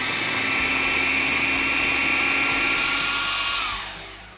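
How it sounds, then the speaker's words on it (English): A food processor blitzes breadcrumbs with a handful of basil, a loud steady motor whir running continuously for about four seconds before winding down at the end, with no talk. "And then we're going to blend this up so that the basil turns all the breadcrumbs green."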